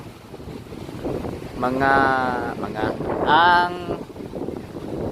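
Strong wind gusts buffet the microphone along a seaside seawall and boulevard, a steady rough rumble running throughout while someone talks over it.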